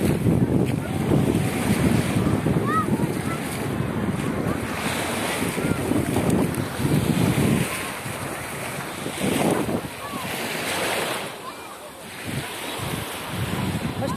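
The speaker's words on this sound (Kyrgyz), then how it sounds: "Толкун." Waves wash steadily onto the shore of Issyk-Kul lake, with heavy wind buffeting the microphone throughout and the surf rising and falling in broad swells close by.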